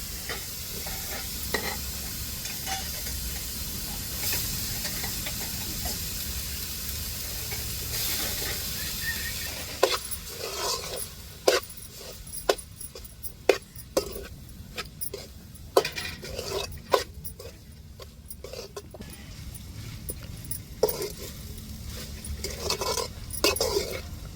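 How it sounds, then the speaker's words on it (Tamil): Cooked rice being stirred into sautéed beetroot in a pan, a steady low sizzle and frying hiss with repeated sharp scrapes and clinks of a spoon against the pan, no talking. "இப்போ நல்லா பீட்ரூட்டை வதக்கியாச்சு நல்லா வெந்துருச்சு நல்ல ஒரு மனம் வந்துருச்சு இப்போ வந்து நம்ம சாதத்தை நான் அடுப்புலேருந்து வடித்து வச்சுருந்து இப்போ சாதத்தை சேர்த்துக்கிடுவோம்"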